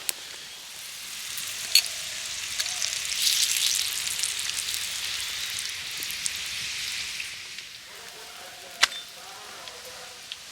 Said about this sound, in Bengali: আবারও একটা পরোটা আমার ভাজা হয়ে গেছে